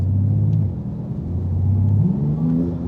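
A Porsche GT2 RS engine rumbles low and close, then climbs in pitch as the throttle is blipped, its deep revving drone swelling and settling again with no talk over it.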